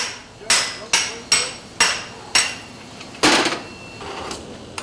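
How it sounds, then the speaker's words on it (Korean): Hammer blows on a roller being fixed in place at a dyeing factory in Pocheon, Korea: about seven sharp, close metallic strikes at an uneven pace, each ringing briefly before the next, with no talking. "롤러를 고정시키기 위해 수십 번의 망치질이 이어진다."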